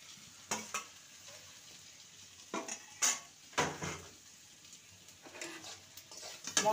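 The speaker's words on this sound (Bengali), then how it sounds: "এবারে ভেজে রাখা কুঁদরি আর আলুকে দিয়ে দেবো" Fried ivy gourd and potatoes stirred into masala in a pan, quiet sizzling broken by several distinct spatula scrapes and clanks against the pan, no talking.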